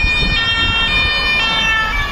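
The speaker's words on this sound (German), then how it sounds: "Das ist gerade, ja, wie ihr gesehen habt, ein Polizeiauto vorbeigefahren" A police car drives past on a road in the south of France, a steady siren wail carried over constant road and engine noise.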